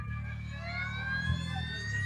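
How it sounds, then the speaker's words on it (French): Several ambulance and police car sirens wail at once with slowly gliding tones over a low engine rumble, steady and moderately near. "Les ambulances et voitures de police arrivent."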